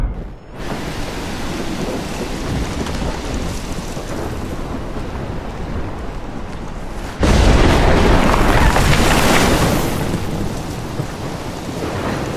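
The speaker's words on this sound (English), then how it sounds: "I've never seen a storm like this in Oregon." A heavy thunderstorm in Oregon, as rendered in the video game Life is Strange: dense rain pours steadily, then a loud, deep thunderclap bursts in and rumbles on for several seconds over the downpour.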